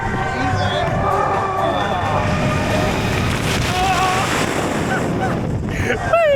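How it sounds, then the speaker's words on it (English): Strong wind roars continuously past the microphone on a roller coaster ride at Blackpool Pleasure Beach, loud and steady throughout, with riders' voices and shouts mixed in. "Just feel that wind!"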